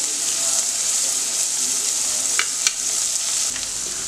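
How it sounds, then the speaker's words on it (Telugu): Small pieces of paneer fry in a pan for paneer pulao, giving a steady bright sizzle with a couple of brief stirring clicks. "సో మనకి ఇక్కడ పన్నీర్ కూడా కొద్దిగా వేగిపోయిందండి."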